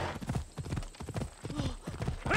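Horse hooves clip-clop at a brisk, steady trot in the video game Assassin's Creed Odyssey, close and even-paced with a faint whinny near the middle.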